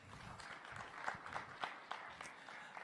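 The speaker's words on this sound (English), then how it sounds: "Another round of applause for Liz," Faint, scattered applause from a youth conference audience for a speaker named Liz, with individual claps standing out irregularly over a quiet background.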